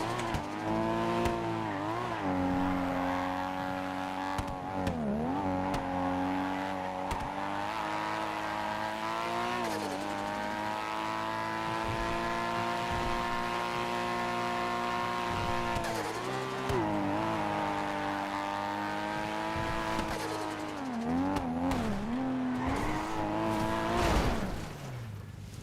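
A heavy car in a racing video game drives on a continuous engine drone whose pitch rises and falls as it brakes and accelerates through corners, with faint tire noise and no talk.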